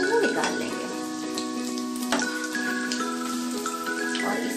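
Green pea kachoris deep-frying in hot oil, a steady dense sizzle and crackle running throughout at close range, with no talking.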